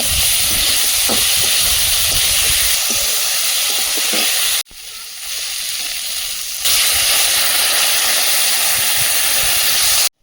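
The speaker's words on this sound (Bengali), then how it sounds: "ঝোলটা ফুটছে" A pot of fish and yardlong bean curry at a rolling boil gives a loud, continuous hiss and bubble that dips briefly midway, then returns at full strength.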